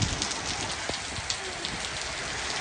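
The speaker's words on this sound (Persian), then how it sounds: "خیس خالی شدم زیر باران" Heavy rain pours down steadily beside Brunnensee lake, a dense continuous hiss with scattered close drops striking nearby surfaces.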